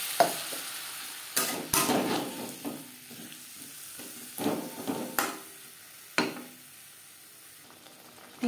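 Potatoes and spices being stirred and fried in a pan for a silver carp curry, a soft steady sizzle broken by repeated scraping strokes of a spoon, close and alone without talk.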